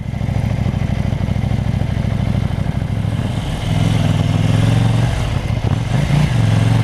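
A KTM Duke 790 motorcycle engine runs loud and close in a steady throbbing idle, then blips to a higher rev partway through, with no talk.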